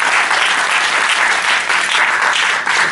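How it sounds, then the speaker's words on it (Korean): An audience applauds at a Korean lecture, with steady, dense clapping that fills the room, close and loud throughout with no talk over it. "큰 박수 부탁드리겠습니다."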